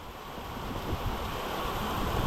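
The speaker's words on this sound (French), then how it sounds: "Le vent est fort, la pluie tombe intensément" Strong wind roars steadily with a dense hiss of heavy rain in Toulon, France, a continuous broadband rush that swells slightly toward the end.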